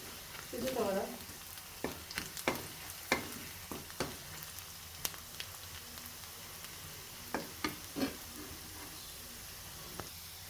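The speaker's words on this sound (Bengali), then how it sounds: "পেঁয়াজ ভুনা নিচ্ছি" Onions sizzle and fry in a pan while being browned, a steady crackling hiss broken by scattered utensil scrapes and taps, with a louder burst of spitting near the start; no one speaks.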